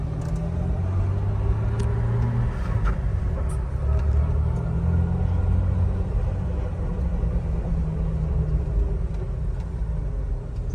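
A Jeep Wrangler Sahara in second gear rolls off on asphalt with a steady, deep engine rumble, the low drone holding close and loud throughout with no talk over it.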